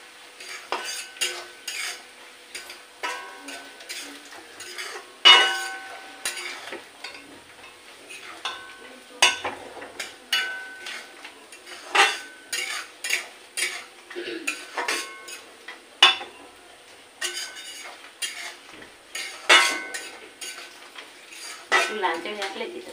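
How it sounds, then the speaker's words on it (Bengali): Coconut and peanuts fried in a pan and stirred steadily, a near, busy run of metal spoon scrapes, clinks and clatters against the pan over a light sizzle, with no talk. "নারকেল আর এইটা ভালো করে ভাজি করে নিলে তাহলে খেতে ভালো লাগবে বাদামটা"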